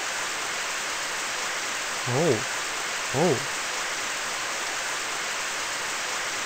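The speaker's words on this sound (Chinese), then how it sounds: "他说被暴风雨一样的水灌进去" Stormy rain and flooding water in a horror RPG puzzle game, heard as a constant dense hiss, with two short voiced exclamations over it.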